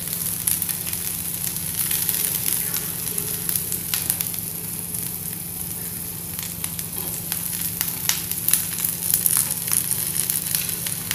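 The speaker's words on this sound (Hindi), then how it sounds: "तो एक साइड पे हम ये अपना कैप्सिकम भी थोड़ा सा फ्राई कर लेते हैं।" Capsicum frying lightly on a hot tawa as a tawa pizza topping, kept crunchy; a steady close sizzle with crackling pops runs throughout, alone and without talk.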